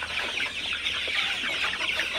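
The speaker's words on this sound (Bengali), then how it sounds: "আমার সোনালী সুপার হাইব্রিড মুরগি কীভাবে পানি খায়।" Golden super hybrid chickens cluck softly and continuously at close range while drinking fresh water, with no talk.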